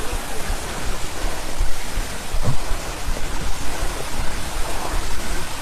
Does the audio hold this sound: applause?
no